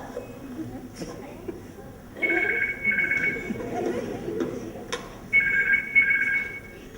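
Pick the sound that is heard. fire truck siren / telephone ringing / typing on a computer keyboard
telephone ringing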